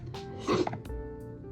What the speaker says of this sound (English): sorry I'm sniffling a lot. I am allergic to something apparently.